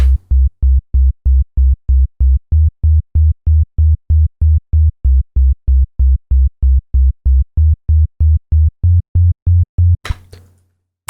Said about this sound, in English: we're going to just draw on some very simple bass line here